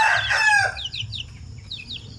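Native chickens at a backyard coop: a rooster crows loudly and close for under a second, then hens give several soft, scattered clucks over a faint low background.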